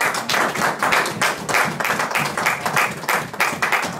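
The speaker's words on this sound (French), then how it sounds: "Si vous pouvez aussi applaudir pour lui." A church congregation applauds during a sermon, a dense, continuous patter of many hands clapping at once, loud and sustained for the whole stretch.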